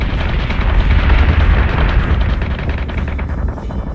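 Warship secondary battery in Battlestar Galactica Deadlock pounding away in rapid, rumbling booming volleys, loud and continuous, a dense barrage of heavy cannon fire fading slightly at the end.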